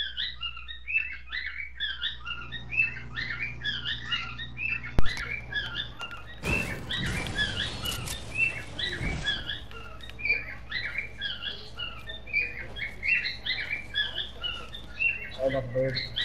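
Birds chirp in the video game Fortnite, quick repeating tweets running steadily throughout, broken midway by a brief loud rushing burst.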